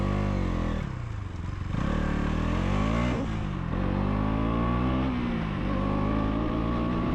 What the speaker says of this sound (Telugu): friends just feel the exhaust note